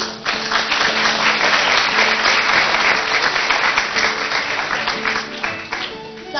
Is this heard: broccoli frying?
no